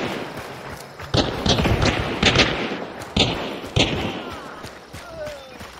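Gunshots from other players fighting in the video game Hunt: Showdown ring out as several sharp, echoing reports spaced a second or so apart over a steady background, with a voice speaking among them.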